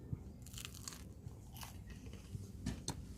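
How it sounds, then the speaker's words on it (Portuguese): Close, quiet crunching bites into crusty gluten-free, dairy-free and egg-free French bread made with levain, several crisp cracks followed by soft chewing. "olha esse pão, vou morder aqui pra vocês verem"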